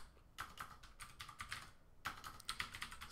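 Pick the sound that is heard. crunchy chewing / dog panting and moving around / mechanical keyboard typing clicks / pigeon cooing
mechanical keyboard typing clicks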